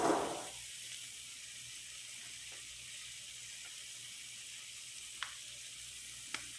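Breakfast sausages fry in a pan with a steady, soft sizzle that runs throughout. A brief louder burst comes at the start, and a couple of faint clicks follow later.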